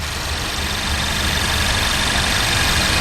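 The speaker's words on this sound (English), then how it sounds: "For 2012, the Focus received an all-new 2-liter gasoline direct injection, or GDI, inline 4-cylinder engine." A 2012 Ford Focus SE Sport hatchback with a 2-liter GDI inline four-cylinder idles steadily, a smooth, even engine hum with a faint whine, heard close and alone without any voices.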